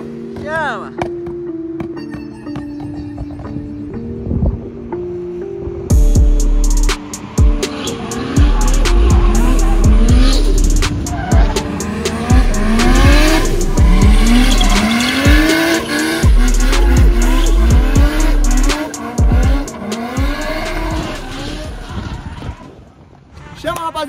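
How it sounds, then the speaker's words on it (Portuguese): A family car drifting loudly with repeated tire squeals and skids, engine revving between slides, close and intense, with people talking and shouting throughout. "esse, mano, foi o drift de hoje com a minha família"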